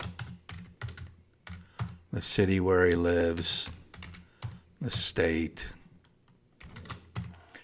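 Computer keyboard typing while member details such as address, city and state are entered into club membership software, steady clusters of key clicks running throughout under a man's speech.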